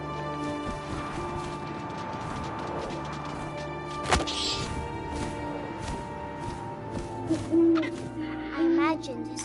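An owl hoots in the video game What Remains of Edith Finch, over steady tonal game ambience, with a sharp thump near the middle and a few soft bumps toward the end.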